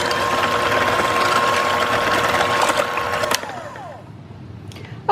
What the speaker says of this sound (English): time to whisk for 2 minutes at a low speed